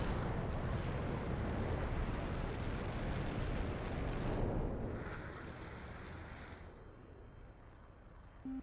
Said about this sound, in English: Missiles being launched, long-range volleys going across the field